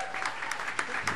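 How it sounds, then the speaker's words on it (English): Audience applause at a jazz performance, a brief steady patter of clapping at moderate distance. "That's applause!"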